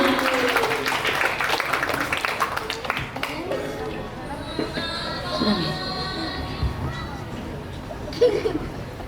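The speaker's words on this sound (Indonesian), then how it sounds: "Sekali lagi kita kasih tepuk tangan untuk mereka semua." Applause at an Indonesian primary school graduation for sixth-grade students, with mixed clapping and crowd chatter that thins after a few seconds, leaving scattered voices and noise.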